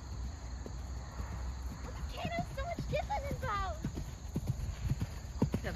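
Horse hooves clip-clop steadily across the ground as a large horse is ridden through a dressage test, with a whinny and people's voices and cheers mixed in over light outdoor background noise.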